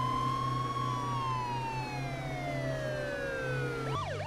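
A police car siren in the video game H1Z1 wails loudly and continuously in long, slowly falling tones over a low engine hum, then switches to a rapid yelping pattern at the end.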